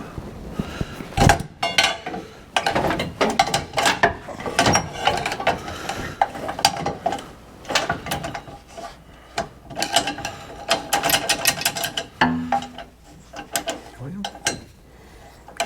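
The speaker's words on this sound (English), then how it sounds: "I'm gonna try and pinch the chain shut, see if you can get that master link out." Metal clanks, clicks and rattles as a combine's drive chain is pinched shut to work its master link free during an overhaul, irregular close-up knocks and scrapes of tools on chain and sprockets.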